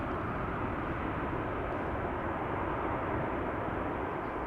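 A Qatar Airways Airbus A350-1000 on approach to land at Amsterdam Schiphol, a steady, loud broadband jet roar that holds constant throughout with no other sounds.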